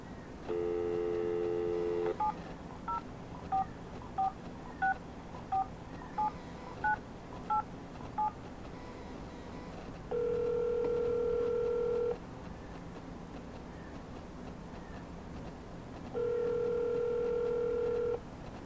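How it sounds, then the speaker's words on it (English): A phone dialing a friend: a long run of DTMF keypad tones in a steady rhythm, then two long sustained ringback tones, clear and close with no talking. "now I'm going to call my buddy Tim."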